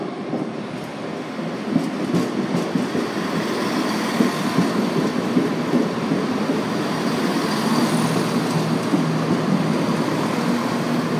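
A train rumbles steadily past at close range through a station, with a continuous rolling roar and faint rhythmic wheel clatter throughout.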